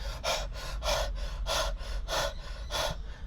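A spearfisher pumps his lungs with heavy, deliberate breaths before a dive in a murky canal, about six loud, close, rhythmic in-and-out gusts in quick succession.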